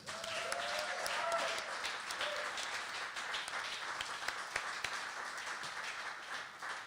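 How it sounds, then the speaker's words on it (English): Applause from an audience at a songwriter round show, a moderate, steady patter of clapping that swells briefly at the start and then continues evenly. "Give a round of applause"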